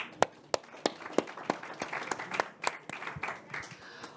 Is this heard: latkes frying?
no